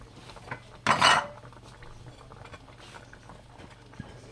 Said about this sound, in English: I'm going to stir this up, and then I'm going to go ahead and add our lentils to this.